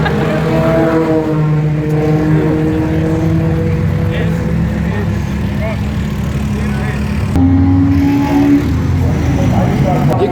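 Race cars pull into the paddock for refuelling during an endurance race, engines droning and revving steadily nearby with a shift in pitch partway through, under continuous background noise.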